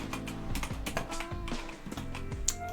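Computer keyboard typing, a quick run of light key taps over steady game background music in a Yu-Gi-Oh card game session.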